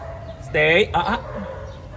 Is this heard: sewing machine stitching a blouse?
no